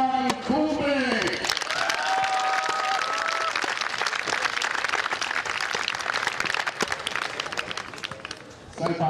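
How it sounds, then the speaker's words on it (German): An audience at a tennis exhibition in Hofstetten-Grünau bursts into sustained applause after an announcer's voice, clapping densely and evenly throughout, with a brief tone and some cheering mixed in. "Bitte begrüßen Sie mit einem großen Applaus die ehemalige Nummer 20 der Weltrangliste, Stefan Kubek!"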